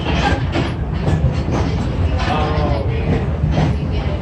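A passenger train rides along the Lehigh Gorge line, giving a loud, continuous rumble with faint rhythmic clatter throughout.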